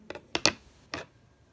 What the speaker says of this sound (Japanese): で、ハサミで切って、